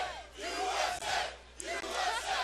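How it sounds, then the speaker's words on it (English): A rambunctious crowd at the Army vs. Navy football game roars and cheers in loud, surging waves of massed voices with whoops and shouts, rising and falling across a few seconds. "This crowd is just rambunctious."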